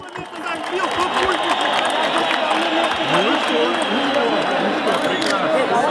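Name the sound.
applause for Abdulmanap Nurmagomedov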